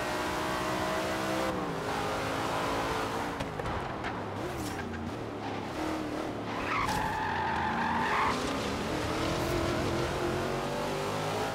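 A Dodge Dart racing in the Forza Horizon 4 video game, with the engine roaring steadily throughout and tires skidding and squealing through turns, loud and continuous.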